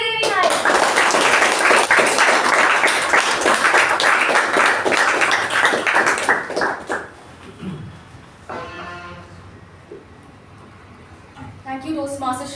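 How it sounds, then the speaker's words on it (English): Audience applause at a Toastmasters club meeting welcoming the Master of Ceremonies, loud sustained clapping for about seven seconds that fades out, followed by a person speaking. "So, the huge round of applause."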